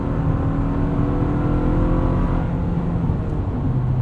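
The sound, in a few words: 2024 Toyota Tacoma 2.4 turbo engine accelerating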